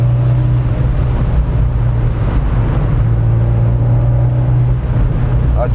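An Abarth 124 Spider's engine hums low and steady from inside the car, with a sustained tone that rises gradually as the revs climb, under steady road and wind noise.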